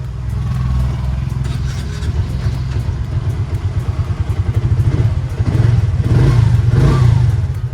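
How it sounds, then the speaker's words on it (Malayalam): A 2024 Piaggio Ape City NXT Plus BS6 auto rickshaw idles with a steady, close, loud putter, its rhythm roughening and swelling toward the end as the engine picks up. "ഇതാട്ടോ വാഹനത്തിൻ്റെ സൗണ്ട്."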